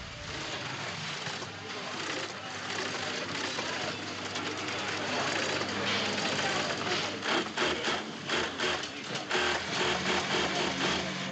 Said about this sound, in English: accompanied by the dense tapping sound of electric sewing machines